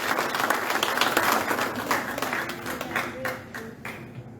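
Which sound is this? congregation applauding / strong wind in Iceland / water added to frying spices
congregation applauding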